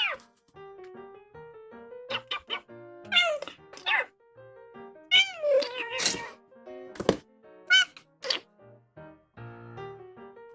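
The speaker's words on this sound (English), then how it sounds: "the cat is returning and probably going to destroy something." A cat meows repeatedly in a series of loud, close, drawn-out cries with pitch glides, broken by short knocks and thumps, amid quiet room sound and no talk.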